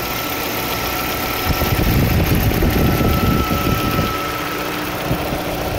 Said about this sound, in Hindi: ये चेक कर लें आप लोग इंजन का साउंड आप लोग चेक कर लें